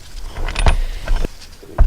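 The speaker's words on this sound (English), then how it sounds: "we're just going to walk the gears over to the side like that and pull them out" Metal gears and thrust washers being pulled from a Willys CJ-2A differential, giving a few close, sharp metallic clinks and scrapes in short bursts with quiet handling noise between.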